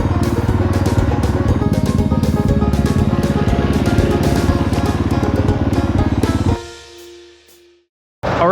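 Dual sport motorcycles ride a tight, technical backcountry trail, their engines droning loud and steady up close before cutting off abruptly, leaving near silence with a brief faint sound at the end.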